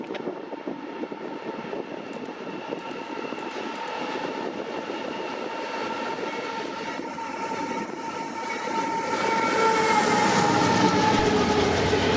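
An eastbound freight train led by AC44C6M and SD70ACe locomotives rumbles past, a loud, steady roar of diesel engines and rolling wagons that swells and grows louder toward the end.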